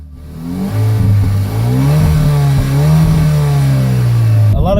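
Hyundai Veloster Turbo Rally Edition engine pulling hard under acceleration, its induction note rising steadily in pitch, loud and close, sustained for several seconds with a brief gear-change dip before cutting off.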